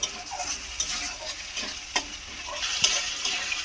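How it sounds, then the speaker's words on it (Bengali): Grated tomato fries in oil for a winter-style new potato curry, giving a steady low sizzle broken by several sharp scraping stirs of the pan, fairly close and with no voices. "এবারে টমেটোটাকে ভালো করে একটু ভেজে নেব"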